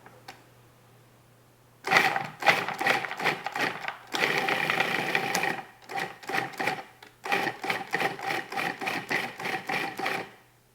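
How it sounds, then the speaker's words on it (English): A food processor pulses macadamia nuts, banana and coconut in a run of loud, short, rapid bursts with brief gaps between them, and no talking. "just again, pulse it a couple of times"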